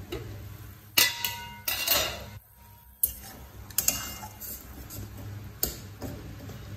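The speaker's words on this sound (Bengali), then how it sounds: "এবার এটাকে আমি একটু ঢাকা দিয়ে দেবো।" A metal lid and utensils clank against a pan of katla fish curry (jhal jhol), making several sharp, separate clinks and knocks of varying loudness with short pauses between them, and no speech.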